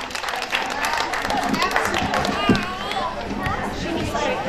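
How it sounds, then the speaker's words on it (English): Audience applause at a festival pageant, moderate clapping from a crowd mixed with chatter and a voice over a speaker system, continuous and mid-distance throughout. "let's give him a round of applause."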